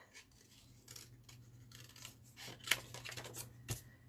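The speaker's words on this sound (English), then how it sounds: "I'm just going to cut round those bits." Scissors snip paper for a Graphic 45 Fairie Wings minibook, a series of short, close, crisp cuts at an uneven rhythm with a few sharper snips near the end, no talking.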